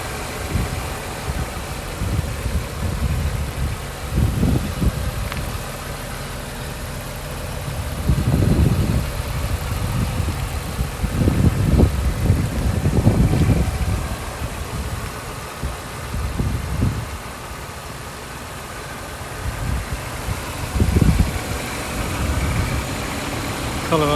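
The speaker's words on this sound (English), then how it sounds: "Engine's running." A 1999 BMW Z3M in Estoril Blue with its engine idling, a steady low hum broken by recurring deeper bursts, heard fairly close with no talking.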